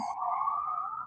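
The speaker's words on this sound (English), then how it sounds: "Sorry about the sirens." A single steady siren tone wails faintly in the distance, held for about a second with no other sounds.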